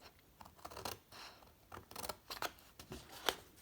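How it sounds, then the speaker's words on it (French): Scissors snip through paper in short, crisp strokes, several separate cuts with brief pauses between them, close and fairly quiet, while a paper box is cut up to its folds. "grâce à l'aide de notre paire de ciseaux, ciseauter notre papier"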